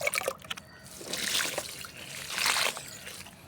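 Water is poured onto a lemon plant in a garden bed, a soft splashing trickle rising in two longer swells over a few seconds, close by and with no talk.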